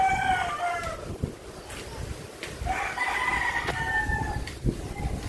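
Roosters crow repeatedly, two or three long drawn-out calls rising over steady wind and rain noise of a typhoon, with chickens being moved to shelter during an evacuation; no voices intrude.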